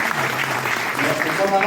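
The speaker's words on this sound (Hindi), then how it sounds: "मैं माइक हैंड ओवर करती हूँ आपकी जबरदस्त तालियों के बीच मिस्टर साबुद्दीन खान सर को।" An audience at a health program event in Rohtak applauds in a steady crackling wash, with voices talking over the clapping.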